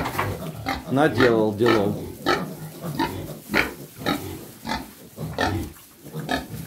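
Piglets on a farm grunt and squeal continuously and close by, overlapping in a busy chorus, while a person talks over them.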